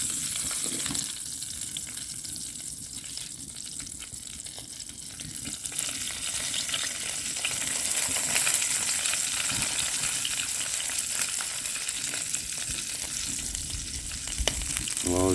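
Fish coated in flour frying in a pan on a titanium stove at a lakeside camp, a steady close crackling sizzle that continues throughout with slight swells.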